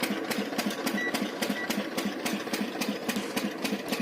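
A 3-inch BLDC solar water pump rated 60V and 600W runs on a farm in light sun, giving a steady, fast mechanical ticking and knocking rhythm that is clear and moderately near.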